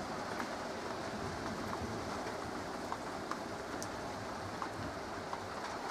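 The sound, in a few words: light rain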